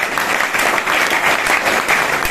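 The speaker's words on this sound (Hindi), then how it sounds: "तालियां हो जाए।" Steady applause from a crowd, a dense wash of clapping that holds at an even, loud level without pause.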